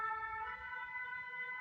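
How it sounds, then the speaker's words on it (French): A fire engine siren sounds as a steady, sustained wail at moderate distance. It is brief and heard alone, with no talking. "on entend la sirène des pompiers"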